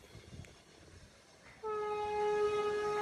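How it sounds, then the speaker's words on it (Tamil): A loud electric horn from a Vande Bharat Express train blasts a long steady tone after a stretch of faint rumbling background noise, at Uthamar Kovil. "இதுதான் இந்த வந்தே பாரத் எக்ஸ்பிரஸ் ஹாரன்"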